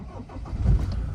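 A 2010 Land Rover Defender 110 TDCi XS station wagon diesel engine cranks and catches in one short, low, rumbling burst, heard close with a warm-day aircon hum behind it.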